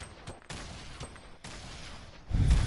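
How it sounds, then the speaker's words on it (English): Grenade launcher fire in a shooter video game: a few sharp bursts and thuds in quick succession, ending in a louder blast, with no talking over them. "These stupid grenade launchers."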